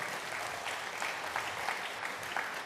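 Steady applause from a church congregation at the close of a Sunday service, a dense even patter of many hands clapping that holds for a few seconds with no voices over it.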